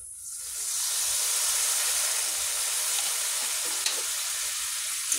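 A little water is poured into masala frying in a pan and bursts into a loud, hissing sizzle. It swells within the first second and then holds as a steady, close steam hiss with a couple of faint utensil ticks.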